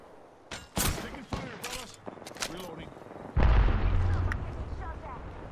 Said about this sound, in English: Taking fire, brothers.